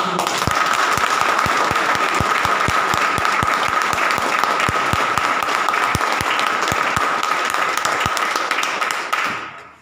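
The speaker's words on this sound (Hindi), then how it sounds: "एक बार जोरदार ताली।" Loud, sustained applause from a crowd, dense clapping throughout with a few sharper claps standing out, fading at the very end.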